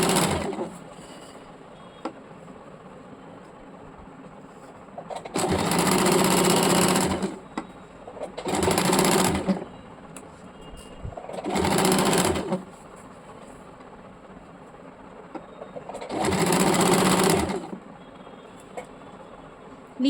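A sewing machine stitches petticoat fabric in five loud bursts of rapid whirring, each a second or two long, separated by quiet pauses with faint handling sounds.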